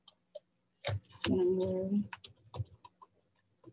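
Typing on a computer keyboard, scattered clicks and a short burst of keystrokes close by, mixed with a brief hum and a voice speaking between strokes.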